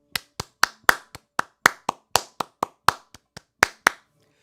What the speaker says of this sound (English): Let's clap this out.